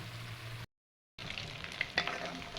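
Butter simmering into ghee bubbles and sizzles steadily in a pan, with a brief moment of silence partway through before the crackling simmer resumes.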